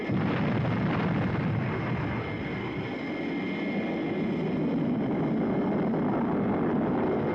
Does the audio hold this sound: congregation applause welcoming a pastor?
no